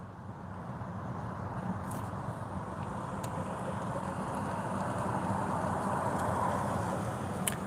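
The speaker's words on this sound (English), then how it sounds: "Got people driving through the parking lot here like they own the place" Cars rolling through a parking lot, a steady low engine and tire rumble that holds evenly throughout with no break, a couple of faint high clicks on top.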